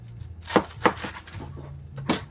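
A knife chops through a head of romaine lettuce on a cutting board, three sharp crunchy cuts spaced apart, close and clear with no voices.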